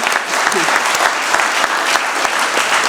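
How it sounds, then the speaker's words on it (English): An audience claps for honorees at a ribbon cutting and open house for a bank-sponsored stage, a dense, steady applause with some sharper nearby claps standing out over three seconds. "Harold and Betsy Janeway were another piece, so we should clap for them."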